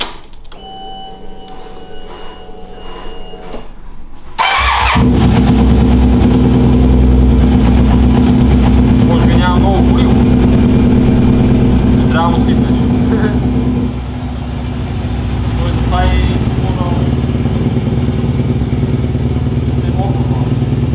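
A Yamaha T-max scooter, damaged after being run over by a garbage truck, cranks briefly and then fires up in an enclosed room, settling into a loud, steady idle with a slight dip partway through while people talk nearby.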